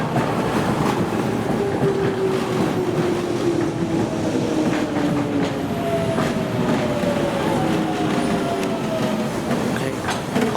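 A westbound DLR light-rail train on the London Docklands line arrives with a steady loud rumble of wheels on track and rising, gliding whine tones, continuous throughout without talk.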